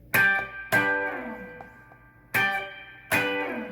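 An electric guitar plays a barred chord on three strings, struck four times in two pairs. Each strum rings out and decays, close and clear, with no voice.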